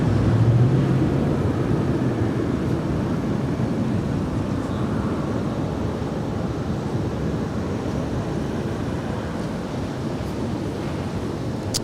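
A Spirit airliner taking off from runway 25 right at LAX, a broad, steady jet roar heard from a distance, with wind rush over the microphone and no voices.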